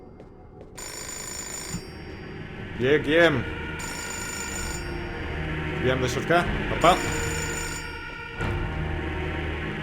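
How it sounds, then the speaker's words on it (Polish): A telephone rings in the video game Fahrenheit, repeating in short bursts of ringing across the clip, partly beneath a voice speaking and with game sounds in the background. "I just need to answer the telephone."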